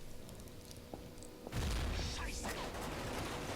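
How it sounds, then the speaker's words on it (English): A grenade explosion in the first-person shooter Necrovision, a sudden loud, deep boom bursting out after quieter gunfire and combat noise, then a rumbling, crackling tail. "blow your ass up with your own grenade"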